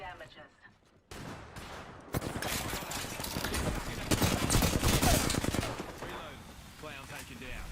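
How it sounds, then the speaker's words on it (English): Bursts of gunfire from an enemy squad in a video game, loud and dense rapid shots building after a quieter start, with game voices and effects mixed in. "A second squad is firing on us."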